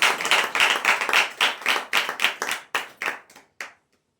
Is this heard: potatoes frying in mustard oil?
no